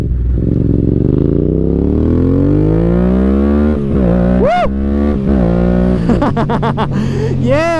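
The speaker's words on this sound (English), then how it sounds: "I got the MT-07 that's got great bottom end grunt" A Yamaha MT-07 motorcycle roars loudly and close while riding, its engine pitch climbing steadily through hard acceleration, then dipping and revving again in quick surges near the end.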